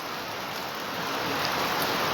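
Heavy rain pouring down in a hilly area, a dense and steady hiss with no gaps. It stays close and loud throughout, with no voices over it.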